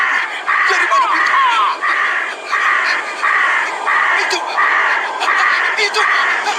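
A large flock of birds approaches fast, a dense, loud chorus of harsh crow-like cawing in repeated pulsing bursts, with raised voices mixed in.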